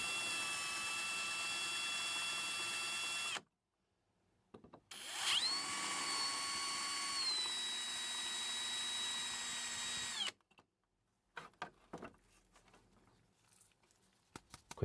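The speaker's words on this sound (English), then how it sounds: "ready to drill out the rivets holding in the window section" Power drill boring out the rivets that hold the window section of a Matchbox Lesney Mercury Police Cruiser model car clamped in a vise. Two sustained high whining bursts, close and fairly loud, are separated by silence, followed by brief scattered handling noises.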